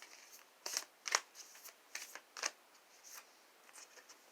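Moonology oracle cards are shuffled and drawn, giving soft, irregular riffling flutters and light papery snaps, quiet and close.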